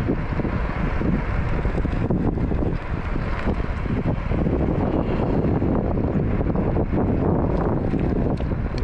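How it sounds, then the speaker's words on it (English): Loud, constant wind of about 25 mph gusts buffeting the microphone on an electric scooter, a dense roaring rumble that surges slightly but never lets up for the whole stretch. "Probably had to get 25 mile an hour gust here."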